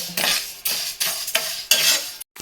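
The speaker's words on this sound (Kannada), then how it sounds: "ಇದರಲ್ಲಿ 2 ಬೌಲ್ ಅಕ್ಕಿನೂ ಕೂಡ ಹುರಿದು ಹಾಕ್ಕೊಳ್ತೀನಿ." Rice dry-roasting in a pan for sambar powder is stirred with a utensil in about five rhythmic scraping strokes against the metal, close and dry, with no sizzle of oil.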